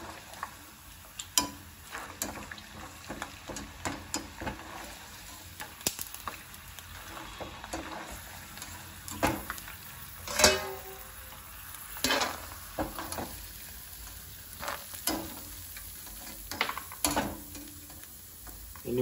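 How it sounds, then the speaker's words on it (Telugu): Dried red chillies frying and being stirred in a pan for beetroot spice powder, with soft steady sizzling under repeated clicks and scrapes of a spatula against the metal, close by and moderately loud. "ఎండుమిర్చిని కూడా వేయించుకొని తీసుకుందాం"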